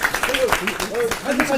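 Clapping from attendees at a merchants' meeting in a traditional market runs throughout, steady and fairly close, beneath people talking over it.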